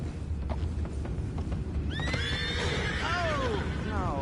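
A horse whinnies loudly in a long descending neigh over a noisy background of rumbling and hoofbeats, with voices mixed in, in the video game Red Dead Redemption II.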